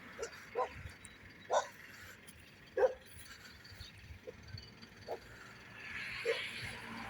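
A family of dogs including a pit bull and a chihuahua barking in Anping, about seven short separate barks spread over several seconds, moderately distant over quiet outdoor background.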